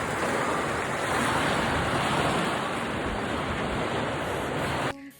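Sea waves at a seaside roar as a loud, steady, continuous wash of surf that breaks off abruptly just before the end.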